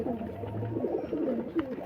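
Kasuri pigeon cooing softly in a low, rolling rhythm, close by, with a steady murmur of the bird's calls running through the whole stretch.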